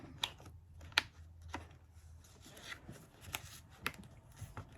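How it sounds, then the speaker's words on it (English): Planner pages being snapped into binder rings, giving a few sharp clicks and snaps amid soft paper rustling and handling, close up with no talking. "I am simply clicking it down into the rings"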